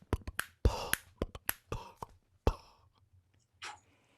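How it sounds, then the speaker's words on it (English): Sharp, close finger snaps alternate with lip pops, tongue clicks and breathy mouth noises in a loose rhythmic pattern, each hit crisp and separated by short silences, sparse toward the end. "my finger snaps and lips and tongue and mouth noises"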